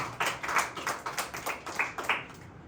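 A congregation claps hands in a steady, even rhythm of about a dozen sharp claps, moderately close, fading at the end with no talk over it.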